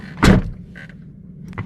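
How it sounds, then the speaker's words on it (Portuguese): The door of an Opel Vectra B shuts with a single close, solid thump, followed by faint clicks and a quiet cabin. "Eu vou fechar a porta para o barulho de fora não entrar."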